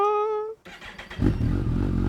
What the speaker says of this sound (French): en vous faisant écouter un petit peu ce moteur